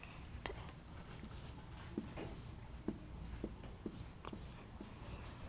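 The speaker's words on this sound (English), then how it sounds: "why don't you get a marker and write down whatever you need to write down" A marker squeaks and taps on a surface in a middle school classroom, in short scattered strokes that are faint and close, with soft voices in the background.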